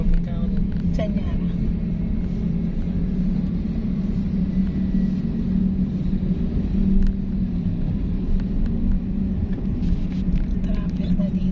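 Steady road traffic in Porac, Pampanga, Philippines: a continuous low rumble of passing vehicles and engines, heard from within or beside the flow, with people talking over it throughout.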